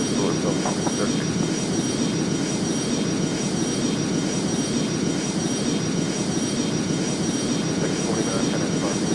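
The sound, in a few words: Boeing 737 taxiing in the video game Airline Commander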